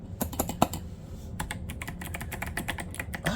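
Keystrokes on an 8BitDo Retro mechanical keyboard, a steady run of crisp close clicks and clacks, uneven in rhythm and moderately loud, with no voices.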